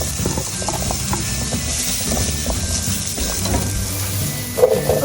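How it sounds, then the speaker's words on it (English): Carrots and potatoes cooking in vegetable oil in a pan over medium heat, giving a steady, dense bubbling sizzle that holds evenly throughout, with a brief clatter near the end. "I'm gonna saute the carrots and the potatoes"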